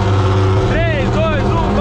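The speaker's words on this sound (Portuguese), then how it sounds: "Escuta o ronco do meu carro, velho" A Ferrari engine rumbles steadily up close while people talk over it, its low droning tone holding even throughout.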